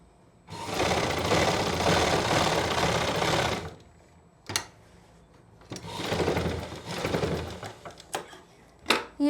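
A sewing machine stitches an L-shaped seam on a pant, running in two long steady bursts, with a pause and a few short clicks and knocks between them as the needle is set and the fabric turned.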